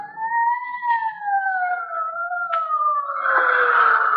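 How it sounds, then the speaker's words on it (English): Police sirens in an old-time radio detective drama, a wailing two-tone rise and fall heard fairly faintly at a distance, alone, with a brief swell of noise near the end. "Sirens. Can't you hear them?"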